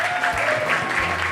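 A short burst of audience applause breaks out for speakers on a university panel, close and fairly loud, with a faint voice underneath.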